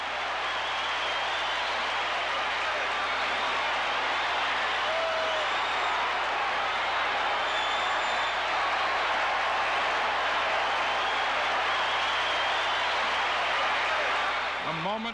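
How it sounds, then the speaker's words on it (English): A 1978 baseball stadium crowd stands and roars, with a dense, sustained wall of cheering and applause that holds steady and loud for the whole stretch without letting up. "The startled crowd stood up and roared."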